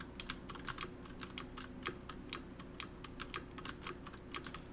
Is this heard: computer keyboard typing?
yes